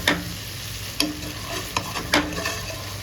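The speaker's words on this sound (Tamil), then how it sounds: "கொஞ்சம் சேர்த்து நல்லா வதக்கணுங்க" Mint goat intestine curry being sautéed and stirred in a pan: a steady close sizzle of frying runs throughout, broken by a few sharp spoon scrapes and clinks against the pan, with no talk.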